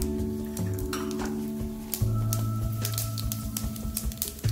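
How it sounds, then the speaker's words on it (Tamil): Mustard and fenugreek seeds crackle and sizzle as they hit hot oil for a Tamil fish kuzhambu, a steady close frying hiss broken by sharp popping bursts, with no voice over it. "எண்ணெய் நல்லா சூடாயிடுச்சு இப்போ கடுகு"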